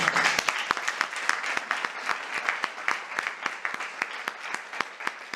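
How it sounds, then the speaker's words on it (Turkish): An audience applauds at a women's exhibition opening in Izmir, a sustained crackling wave of many hands with a few sharp, distinct claps standing out near the front. "çok büyük bir alkış istiyorum"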